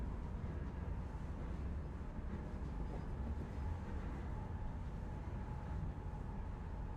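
A steady, heavy rumble of a train moving along in a horror video game, with low, dense rolling noise that holds at a constant level for the whole stretch and no voices over it.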